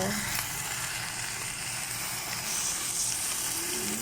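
Pork fries in oil for adobo, a loud, steady crackling sizzle close up that runs unbroken throughout, with no voices.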